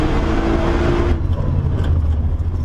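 A Nissan GT-R Nismo engine pulls hard around the Nürburgring Nordschleife, a loud, steady close-up roar that drops with a quick gear change about a second in, then carries on under load.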